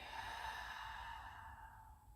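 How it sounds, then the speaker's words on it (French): A forceful exhale through the mouth during a sophrology breathing exercise at a summer yoga class, a soft breathy rush that fades over about two seconds, quiet and close. "en inspirant par le nez et en soufflant fortement par la bouche"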